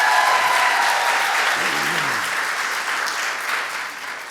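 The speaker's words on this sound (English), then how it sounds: "Give her one more round of applause" Sustained audience applause following a performance at a tech startup showcase event, loud and dense at first, then tapering slightly over several seconds, with faint voices mixed into the crowd noise.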